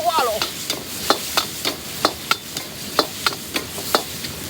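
Pig stomach stir-fried in a wok over high heat, spatula scrapes ringing out in a steady, roughly regular rhythm of sharp clanks over a constant sizzle, close and moderately loud, with a brief voice near the start.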